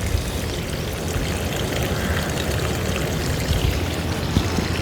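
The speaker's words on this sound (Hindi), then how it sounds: "माशाल्लाह से पानी भी चल रहा है, देखें।" Water running steadily for watering plants and grass outdoors, a continuous flowing, trickling wash that holds at an even level throughout with no talk over it.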